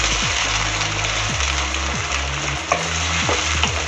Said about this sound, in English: Now we will start frying it.